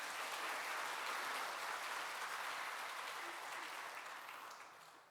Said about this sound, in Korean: 격려의 박수를 드리겠습니다.